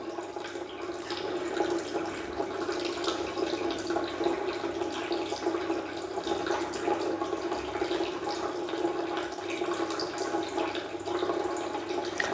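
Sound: Tunze Osmolator 3 top-off pump pouring water

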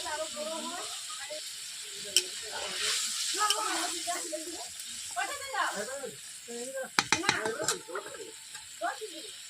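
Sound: coriander leaf paste added to frying katla fish curry

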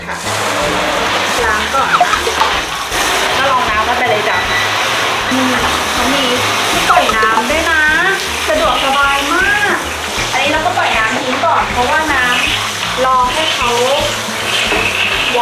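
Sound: water running into a baby bathtub from a water heater

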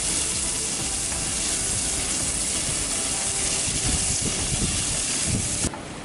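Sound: bacon sizzling in frying pan

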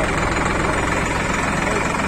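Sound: INDOFARM tractor engine idling

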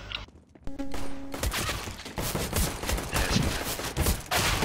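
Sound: gunfire in Counter-Strike video game

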